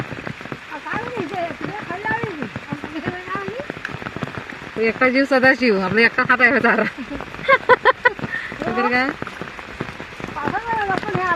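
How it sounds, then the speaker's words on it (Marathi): Heavy monsoon rain falls on a village home in Dapoli, Konkan, a continuous hiss running under a conversation between several people. "आज भरपूर पाऊस पडायला लागलाय"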